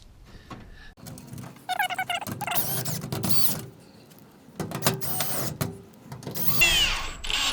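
A power drill or driver runs in several bursts, driving screws into a garage door roller bracket while nylon roller wheels are being fitted, with whirring spurts between short pauses, close and fairly loud.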